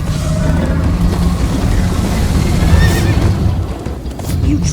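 A horse in the Minecraft: Story Mode video game neighs and whinnies during a frantic ride, with hoofbeats and a dense, steady game soundtrack and effects running underneath throughout.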